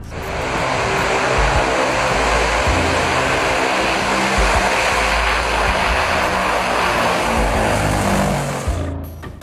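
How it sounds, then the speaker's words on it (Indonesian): A loud, steady drone of the four Kuznetsov NK-12 turboprop engines of a Tu-95 bomber, continuous and close, with a constant low throbbing hum that fades slightly at the very end. "Tu-95 adalah pesawat bermesin turboprop yang besar dengan 4 mesin turboprop Kuznetsov"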